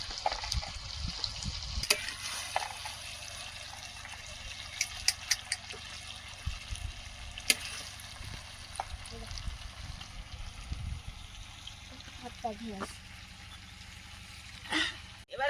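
Garlic and potatoes fry in a pan, a soft continuous sizzle broken by sharp clatters and scrapes of stirring, with quiet background sounds beneath.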